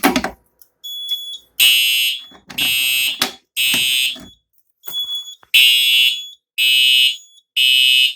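Simplex fire alarm horn sounding during a fire alarm panel test, loud, piercing blasts in a steady repeating pattern at close range, with a short spoken phrase and a click at the start.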